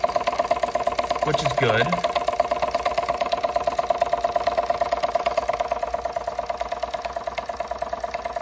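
A steam engine turning a generator runs with a fast, steady mechanical chugging and rattle, and a person speaks briefly over it.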